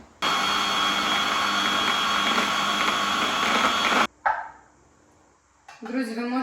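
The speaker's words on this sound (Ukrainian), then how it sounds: "І це все перебиваю блендером." A kitchen blender whirs loudly and steadily for about four seconds while blending banana with sheep's-milk yogurt, then cuts off abruptly, followed by a brief clatter and then a voice.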